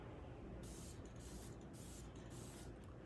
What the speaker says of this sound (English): you just want to spray right over your finished product here